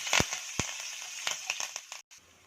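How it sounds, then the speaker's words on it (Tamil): Curry leaves and asafoetida sizzle in hot oil for brinjal rice, with sharp crackles and pops over a soft frying hiss, close and fairly loud, a few strong bursts at the start, then fading. "கருவேப்பிலை சேர்த்து லைட்டாக வதக்கிக்கோங்க."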